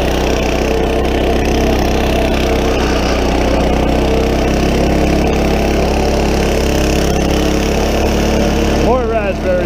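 An old Troy-Bilt Horse rototiller engine runs steadily in a garden, a loud, continuous mechanical drone with a slight tonal sweep near the end.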